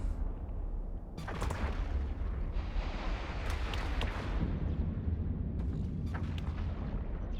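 Auto heavy missiles fire continuously from a Drake in the EVE Online space game, a dense booming barrage of overlapping launches and impacts that stays loud throughout, with no talking.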